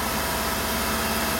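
Tata Tiago 2024 XZ+ manual hatchback petrol engine running with a light rev, a steady mid-pitched engine drone with faint vibration, close and moderately quiet, brief and without talk.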